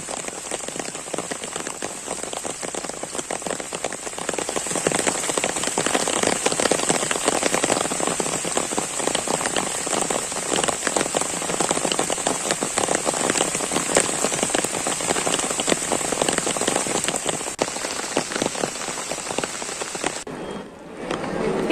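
Heavy monsoon rain in coastal Dakshina Kannada near the Dharmasthala temple. It keeps up a dense, continuous hiss of drops pattering on surfaces, steady and loud throughout, and no one speaks.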